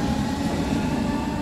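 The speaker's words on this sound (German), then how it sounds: "Und die S-Bahn fährt jetzt so weiter." A German S-Bahn commuter train near Dortmund rolls along, heard as a loud, steady rumble and rushing noise with no pauses.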